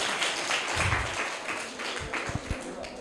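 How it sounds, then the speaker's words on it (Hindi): A group of children and adults give loud applause for a quiz winner, a steady wash of clapping at moderate loudness with a few louder individual claps and faint voices underneath. "जोरदार तालियां इनके लिए भी।"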